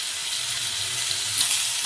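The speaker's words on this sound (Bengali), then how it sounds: "বেগুনটাকে আগে একটু ভেজে নেব" Eggplant pieces frying in hot oil in a Bengali village kitchen, a steady close sizzle with a slight swell near the end, no talking.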